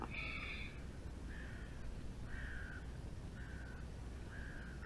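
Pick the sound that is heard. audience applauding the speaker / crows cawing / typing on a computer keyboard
crows cawing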